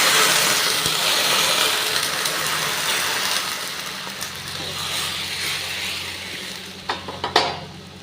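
Hot water poured into fried moong dal in a pan, starting as a loud, steady hiss and sizzle that slowly settles, with a few clattering stirs near the end.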